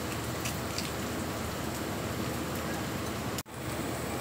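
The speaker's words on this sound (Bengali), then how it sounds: "পেঁয়াজটা দেখো হালকা করে ভাজা হয়ে গেছে" Onions fry in a pan with a steady, dense sizzle that runs unbroken, apart from one brief dropout near the end.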